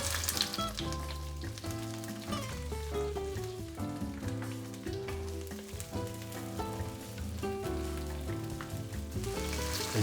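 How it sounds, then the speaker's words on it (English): Onions sizzling as they are stir-fried in a wok, a steady crackling fry under prominent background music throughout. "And then the onions."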